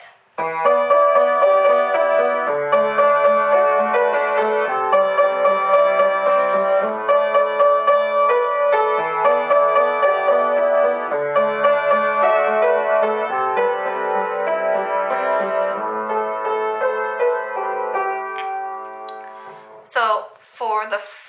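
Solo piano plays a cover of a song, steady sustained chords with a moving melody over a low left-hand line for about twenty seconds, then a brief voice cuts in at the very end.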